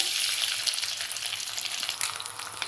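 Eggs frying in hot oil in a pan for an egg curry, a steady close crackling sizzle with continuous bright spitting throughout and no talking.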